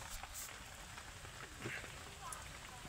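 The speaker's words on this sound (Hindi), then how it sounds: "फ़िलहाल यार बारिश भी बहुत तेज़ हो रही है" Heavy rain pours down steadily at a roadside vegetable-selling spot, a dense continuous hiss with scattered drops and splashes close by, and no voices over it.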